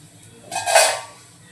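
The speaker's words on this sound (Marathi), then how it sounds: "झाकण काढूया" A metal lid lifted off a pan while Malvani-style ghavane cook: a single short clatter and hissing whoosh of escaping steam, loud and close, over a faint low background hum.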